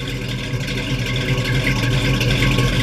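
A 1971 Ford Mustang Mach 1 with numbers-matching engine and idle set low sits idling close by, a steady low rumble carrying a faint rhythmic chug throughout.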